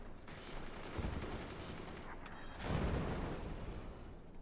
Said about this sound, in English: Ryabjik is also getting blasted by the mortars themselves